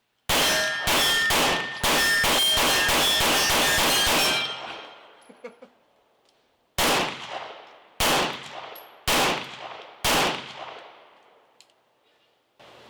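An IWI Jericho pistol fires a quick string of loud, close shots with ringing metallic clangs, then after a short pause several more single shots come at a slower, even pace.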